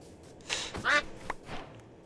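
Several short, nasal duck quacks in the Minecraft video game, spaced irregularly over about two seconds and sounding fairly close against a quiet background.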